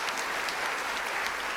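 An audience at a festive Tamil debate stage show gives steady, continuous applause for a singer, an even wash of clapping with no break.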